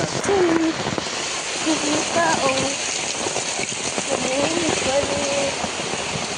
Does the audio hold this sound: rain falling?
yes